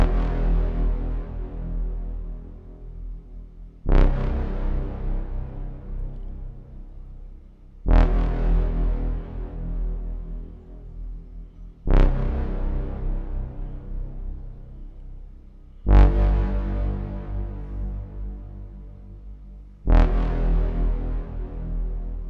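Synth bass patch built in VCV Rack with a GrainOSC oscillator, Ferox CMOS filter and slap envelope, six deep thumpy notes struck about every four seconds, each decaying slowly, alone and clean.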